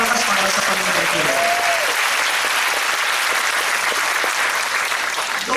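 Church congregation clapping loudly and steadily through the whole stretch, a dense wash of hands with a voice briefly audible early on.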